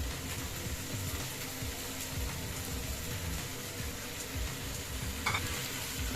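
Eggplant and onion cook in oil, giving a moderate, even sizzle with soft intermittent stirring scrapes, close by and free of talk.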